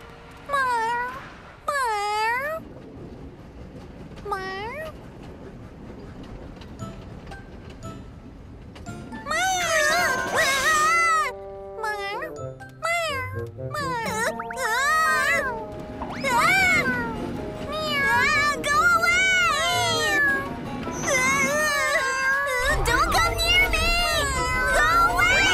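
A cartoon cat in the Tayo little buses show meows repeatedly in rising and falling calls, mixed with children's and cartoon voices talking and bright background music.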